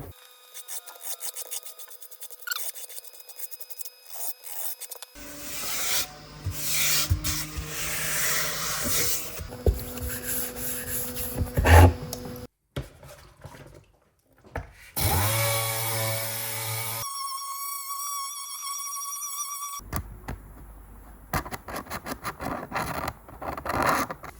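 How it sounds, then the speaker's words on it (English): Rasping, scraping hand-sanding strokes rub repeatedly against paint on the metal of a 1982 Suzuki RM 250 motorcycle, changing in texture and pace from one stretch to the next. "That is pre-sanding, that's post-sanding."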